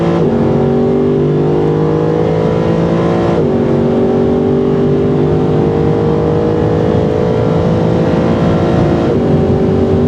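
A Mercedes SLS AMG engine screams under full throttle on a straight in Abu Dhabi, pitch climbing steadily through the gears with two quick shifts, loud and sustained from inside the car.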